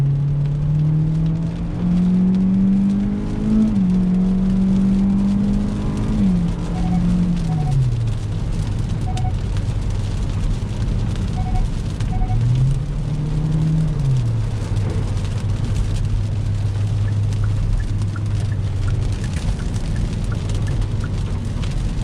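2021 Hyundai Elantra with a 2.0 naturally aspirated engine and IVT transmission, in sport mode, accelerating onto a highway, heard from inside the cabin: a steady engine drone that rises, dips, climbs again and settles under road noise.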